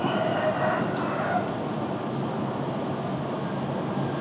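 Royal Blossom passenger train arriving at a station on the Bangkok to U-Tapao service, a steady rumble of rolling railcars with faint wheel squeal, fairly close, with no talking.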